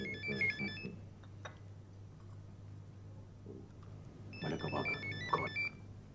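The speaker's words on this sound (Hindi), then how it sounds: "ये किसका फोन आ गया बेवक्त बेवक्त?" An old telephone in a home scene from a Pakistani PTV drama rings in two clear bursts of electronic trills at the start and end, with a quiet gap between them and a low steady hum underneath.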